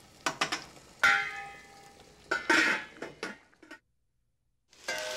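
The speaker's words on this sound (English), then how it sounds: "When you put in pasta," Pasta stirred in a pot makes scraping and clanking utensil knocks in uneven bursts, close and fairly loud, before a short silence and a final clatter.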